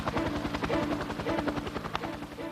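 Huey utility helicopter flying overhead with a steady, pulsing rotor thump and engine whine, loud and continuous with no talk.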